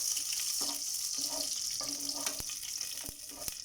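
Green chilies and curry leaves frying in hot oil for boondi curry give a soft continuous sizzle, with occasional ladle stirs and a few sharp clinks against the pan.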